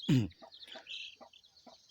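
Wild junglefowl chicks peep in quick high chirps while a louder fowl clucks once near the start, followed by scattered soft calls at close range.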